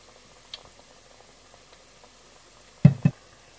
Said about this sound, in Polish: Smażymy do czasu, kiedy zrobią się kolorowe, w kolorze takiej pomarańczy, oczywiście z obydwu stron.